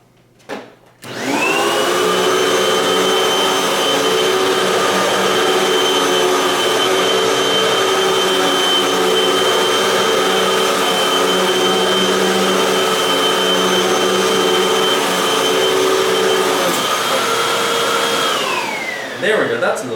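Hoover Windtunnel 3 Max Pet Plus upright vacuum cleaner switched on over carpet, a loud steady motor whine and airflow roar running unbroken for most of the stretch before winding down at the end.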